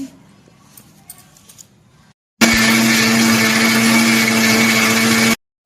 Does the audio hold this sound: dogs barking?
no